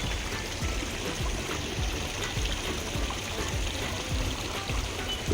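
Decorative garden fountains send water steadily flowing and trickling, a continuous close splashing wash with a soft low patter, no voices over it.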